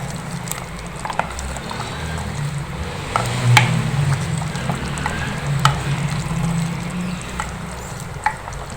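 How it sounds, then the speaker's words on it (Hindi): Ground dry masala is stirred into mutton in a hot pan, giving a steady sizzle with scraping stir strokes and soft clinks, fairly close and without talk. "ये भी हमने इसमें ऐड कर देना है। इसको हम अच्छी तरह से मिक्स कर देंगे।"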